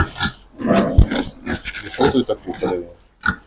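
Young pigs grunt in short, low bursts at close range, mixed with people talking nearby.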